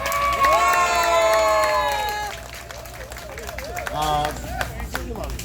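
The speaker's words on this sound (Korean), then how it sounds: "한번 큰 박수 한번 해주시기 바랍니다" Audience at a Korean formal lecture event cheering and applauding a vice-minister, with shouts and voices loud at first, then clapping continuing under talk as the noise settles.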